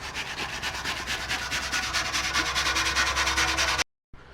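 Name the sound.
rubbing down old oil cans with a rag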